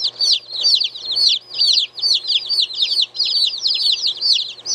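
Homestead chickens clucking and chirping in a steady run of repeated calls, fairly close and continuous, with no voices.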